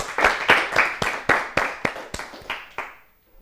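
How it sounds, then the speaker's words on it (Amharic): An audience applauds a quiz contestant on a children's TV show in Ethiopia, with a short burst of loud, fairly rhythmic clapping that tapers off over about three seconds, with no voices over it. "አጨብጭቡለት፣ ለምዕራፍ አጨብጭቡለት"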